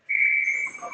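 A referee's whistle blows during an ice hockey game, a single sustained shrill blast lasting most of the second, with faint arena noise underneath.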